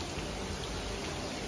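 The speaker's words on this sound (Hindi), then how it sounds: "बारिश इधर भी बहुत हो रही है" Heavy rain pours down steadily in an Indian town, a dense, even hiss of falling water that holds at the same level from start to finish with no voices.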